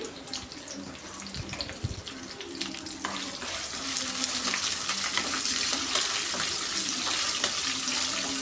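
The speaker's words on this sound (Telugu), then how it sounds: "ఆ ఉల్లిపాయ ముక్కలను కూడా వేసేసుకొని చక్కగా మనం వేయించేసుకోవాలి" Thin, lengthwise-cut onion slices frying in a pan for an ivy gourd and coconut stir-fry give a steady hissing sizzle that swells louder partway through, with faint clinks at the start.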